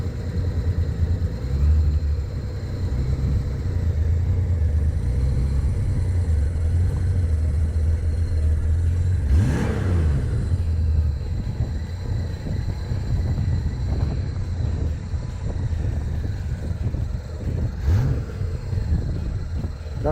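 Engine of a 1996 Honda GoldWing GL1500 SE motorcycle under restoration, a deep close idle rumble with two quick throttle blips that rise and fall away.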